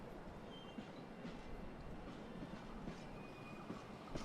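A train rumbles steadily past in the Hitman 2 video game, a continuous low rolling drone with faint high metallic tones and no voices.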